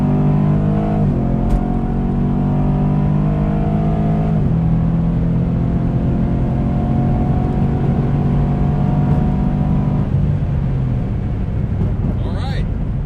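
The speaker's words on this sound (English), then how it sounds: "60 to 130 in the 2018 Camaro SS, and we'll see how it goes." A 2018 Chevrolet Camaro SS V8 pulling hard from 60 to 130 mph, the engine drone climbing steadily through the gears with short drops at each upshift, loud and close inside the cabin.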